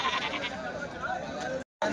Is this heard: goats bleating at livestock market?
yes